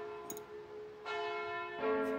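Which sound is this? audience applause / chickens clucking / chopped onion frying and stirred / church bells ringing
church bells ringing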